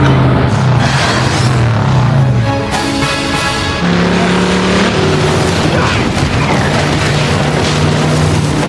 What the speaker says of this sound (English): This truck gonna kill him now?